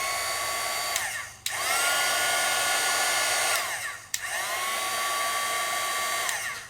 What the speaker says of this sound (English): I'm using the Sizzix heat tool, and this gun has 2 settings.